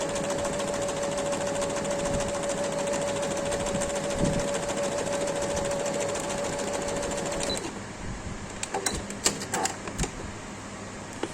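A sewing machine stitches seams on a baby frock, its fast, steady motor whir and needle rattle running close for about seven seconds before stopping, followed by a few quieter clicks and handling sounds.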